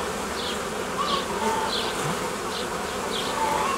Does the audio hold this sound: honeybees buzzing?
yes